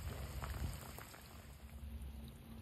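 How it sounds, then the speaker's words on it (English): Rain pattering down outdoors by the water on a fishing trip, a soft, steady hiss of drops with no voices. "let that rain calm down a bit"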